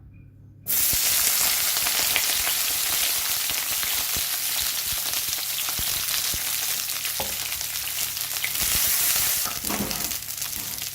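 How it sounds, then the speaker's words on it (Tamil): Brinjal pieces dropped into hot oil set off a sudden loud, dense sizzle that keeps crackling steadily and close, with occasional stirring scrapes and no talking. "இப்போ நம்ம வெட்டி வச்சுருக்க கத்திரிக்காயை சேர்த்துக்கலாம்."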